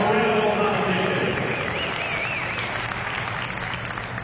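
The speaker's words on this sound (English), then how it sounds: "Give Jared a round of applause." Loud, sustained applause from an event audience honoring the health promoter, with a whoop or whistle rising above the clapping and crowd noise fading slightly over four seconds.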